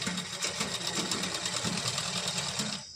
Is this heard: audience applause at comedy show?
no